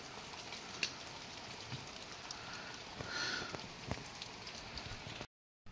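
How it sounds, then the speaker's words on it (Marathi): Steady rain falls in Khed, Ratnagiri in the Konkan, a faint, even hiss of drops on surfaces with a few soft taps, continuous until the clip cuts off abruptly near the end. "मंडळी पाऊस आहे आज"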